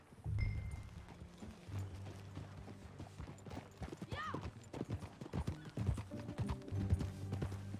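Horse hooves clip-clop in an uneven rhythm in Red Dead Redemption II, with a horse's whinny midway and low rumbling in the background, fairly faint overall.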